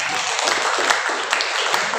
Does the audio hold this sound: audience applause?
yes